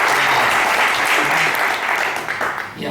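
A church audience gives a round of applause, loud and sustained, with a voice faintly underneath before it tapers off.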